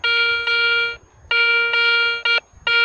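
Metal detector signal tone sounding over a dig spot, a steady harmonic electronic beep repeated in long bursts with short gaps, loud and close with no talking.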